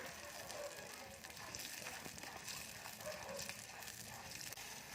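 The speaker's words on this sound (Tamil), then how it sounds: "இப்போ அதே நெய்யிலேயே நம்ம வந்து பாசிப்பருப்பு போட்டுக்கலாம்" Moong dal frying in ghee for Srirangam akkaravadisal, a faint, steady hiss and crackle that stays continuous and even throughout, with no voices.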